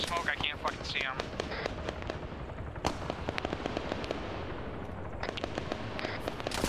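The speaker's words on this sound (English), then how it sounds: "they're shooting at us through the smoke" Video game firefight through white smoke: a rapid run of sharp gunshots cracks steadily throughout, some close and loud, others farther off, with no talking over them.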